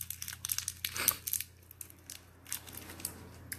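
Close, crackly crinkling of a small cough drop wrapper being handled and twisted, irregular bursts of rustling that fade into quiet fidgeting.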